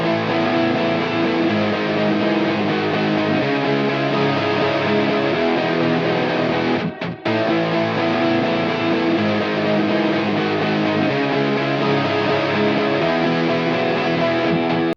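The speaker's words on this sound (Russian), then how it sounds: "Вот так все гитары звучат вместе." Several layered guitars from an FL Studio project of a song play together in a dense, distorted wall of sound, loud and continuous, with a brief dropout midway.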